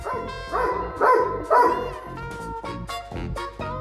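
A dog gives a quick series of three or four sharp barks over playful background music, then the music carries on alone.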